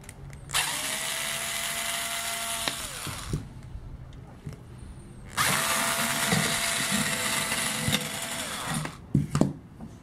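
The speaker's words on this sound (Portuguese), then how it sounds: "Vou tirar os parafusos da lateral." Side screws being driven out of a Gradiente CD-1 car stereo with a powered screwdriver, two sustained whirring bursts of a couple of seconds each, close and fairly loud, with small clicks and taps between them and no talking.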